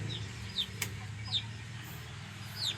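Three short, soft chirpy clucks spaced about a second apart over a low steady background rumble, with a brief click partway through.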